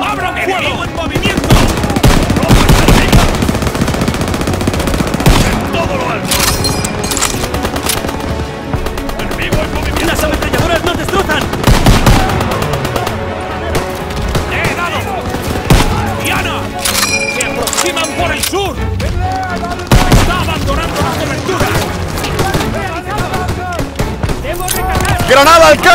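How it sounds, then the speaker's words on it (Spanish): Dense World War II battlefield gunfire in Call of Duty: WW2: sustained machine-gun bursts and rifle cracks with occasional booms, loud and continuous across the scene, with shouted soldier voices mixed in. "¡Abran fuego!"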